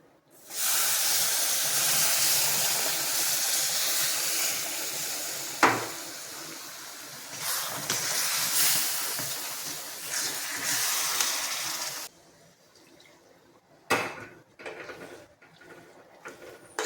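A sharp, loud hiss and sputter erupts as hot water hits water chestnut flour roasting in a hot pan, followed by stirring scrapes and quieter bubbling.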